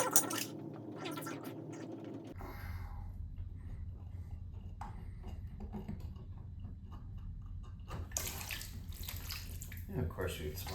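Water runs and splashes inside a Sloan toilet during a vacuum breaker repair, a close hissing flow that changes in texture, with handling noises and a brief spoken moment mixed in.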